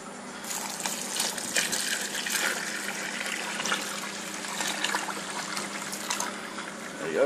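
Water draining from a large bucket of mash in a brewing setup, a steady gushing, splashing flow that continues loud and constant throughout.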